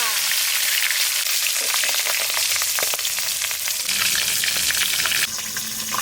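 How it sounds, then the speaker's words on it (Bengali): A katla fish head frying in hot oil, with a steady, close sizzle and crackle running throughout and a few louder spits and stirring clatters over it. "আমি ভাজবো মাছের মাথা"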